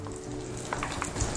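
Oil heating in a pan for onions gives off a faint, steady sizzle and crackle, with a few soft pops and a light knock near the end.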